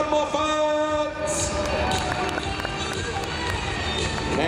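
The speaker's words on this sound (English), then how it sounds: "Make some noise for Alistair Moffat" A crowd at a car show cheers and shouts throughout a Guinness World Record attempt, loud and continuous, with a host's voice talking over it.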